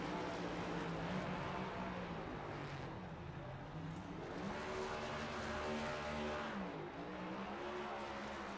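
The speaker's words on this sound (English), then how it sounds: "They're not going to be happy with him burning it down on the bricks." A NASCAR stock car doing a burnout on the bricks at Indianapolis in the iRacing sim, its engine droning steadily in wavering, rising and falling tones that sound continuous and fairly distant.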